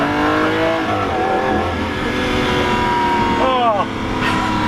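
A Lamborghini Aventador with a single-clutch gearbox revs hard, its engine note climbing loudly with rising harmonics and a sharp sweep near the end, while someone talks over it.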